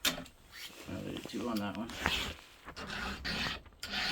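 A hand file rasps against a chainsaw chain in short strokes while someone talks over it.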